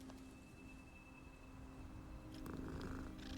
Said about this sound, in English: Oh, kitty. My poor Rococo.